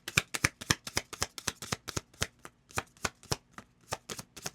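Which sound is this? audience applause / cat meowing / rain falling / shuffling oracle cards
shuffling oracle cards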